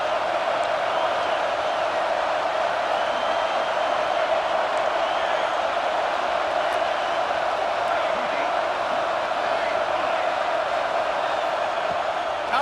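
Stadium crowd in EA Sports College Football 26 roaring steadily during a game, a loud, unbroken wash of cheering and shouting with no distinct breaks, heard alone without commentary.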